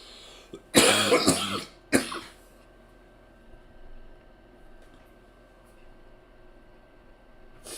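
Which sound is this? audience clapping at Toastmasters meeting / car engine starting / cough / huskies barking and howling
cough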